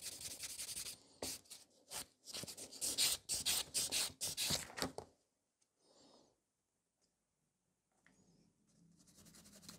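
A gel nail is filed and smoothed with quick, close, rasping strokes in a rapid scratchy rhythm for about five seconds, followed by near silence with a few faint rubs.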